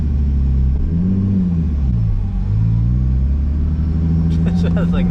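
A Nissan 350Z engine rumbles deep and loud but fails to rev under throttle, its pitch wavering up and down without climbing, with a brief voice near the end.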